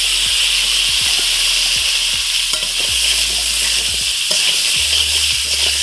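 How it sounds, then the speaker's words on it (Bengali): Green chilies and ingredients for a banana curry fry in hot oil with a loud, constant, hissing sizzle, while a faint rhythmic beat runs low in the background. "এই তেলে কাঁচা লঙ্কা ফোড়ন দিয়ে এবার এগুলো দিয়ে দিই"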